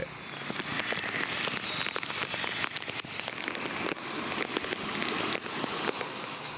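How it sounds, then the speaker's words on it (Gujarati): Heavy torrential monsoon rain pours down in Gujarat, about two inches falling in two hours. It makes a dense, steady hiss of drops hammering surfaces, with crackling splashes throughout and no voices. "અહીંયા બે કલાકમાં બે ઇંચ જેટલો મુશળધાર વરસાદ વરસ્યો છે"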